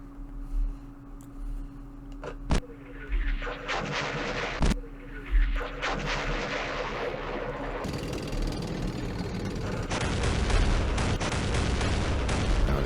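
Anti-aircraft guns fire in the Campaign Series West Front wargame, set at Aachen on the West Wall, with sharp shots and booming bursts that turn into a dense, loud barrage of rolling gunfire in the later part.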